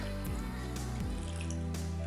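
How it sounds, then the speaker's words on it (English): Water being poured into an ileostomy pouch, a steady wet trickle with soft gurgling drips and squishes running continuously and close, with no talk over it. "I'm gonna pour this water into the bag"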